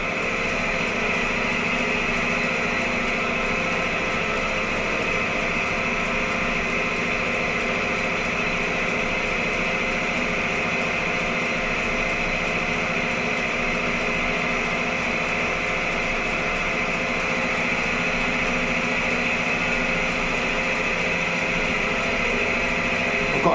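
Crankshaft assembly for a 1.6 Crossflow Formula Ford engine spinning on a balancing machine at 800 rpm, a constant mechanical whir and hum with steady tonal lines, unchanging and alone.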